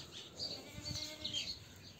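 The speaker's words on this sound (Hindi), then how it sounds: "बकरियाँ," Goats bleating among livestock in a rural Indian village, faint and somewhat distant, with a few short calls over steady outdoor background noise and birds chirping lightly.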